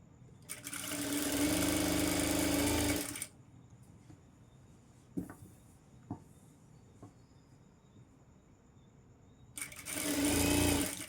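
Two loud bursts of a sewing machine stitching a golden saree fall, one of about three seconds and one at the end, separated by quiet handling clicks and faint taps.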